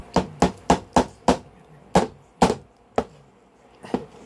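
A ball peen hammer strikes a block of frozen chili in sharp, close knocks: a quick run of five blows, then several slower, irregular hits, with no talking.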